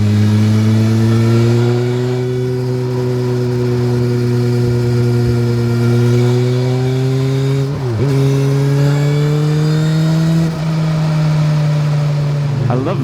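A QJ Motor SRK 921 RR motorcycle engine runs up close and loud, a steady growling tone that climbs slightly as it is revved, with brief dips and blips between.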